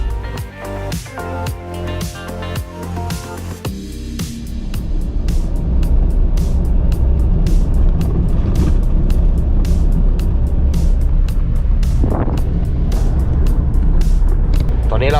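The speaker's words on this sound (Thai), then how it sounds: "ให้พีเตอร์ขับรถไปก่อนนะครับ" Car driven along a route toward an off-road test location, engine and road noise building into a loud, steady rumble with scattered clicks and thumps.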